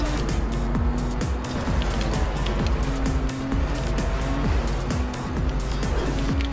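Race cars roar continuously through a Trackmania Turbo race, engine pitch rising and falling with gear changes and turns, loud and close with no talk over it.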